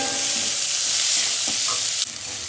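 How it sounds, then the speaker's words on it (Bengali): Onion, carrot and capsicum frying in mustard oil for chicken egg rolls, a loud, dense, close sizzle that holds steady and then eases slightly near the end, with a brief stir and no talking. "পেঁয়াজ, গাজর আর ক্যাপসিকামটা একটু ভেজে নেব"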